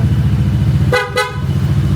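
Two short honks from a motorcycle horn sound close by over a steady idling engine rumble.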